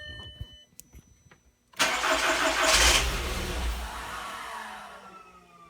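A 2001–2005 VW MK4 with an immobilizer fault cranks after a few quiet clicks, then its engine fires loudly and briefly roars before fading as it begins to die.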